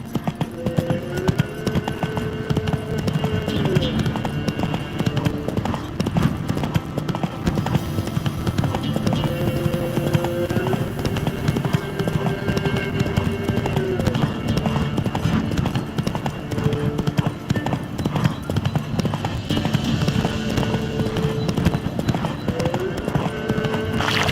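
Roach the horse from The Witcher 3 gallops with a steady, repeating clip-clop of hooves under game music, with voices talking intermittently over the hoofbeats.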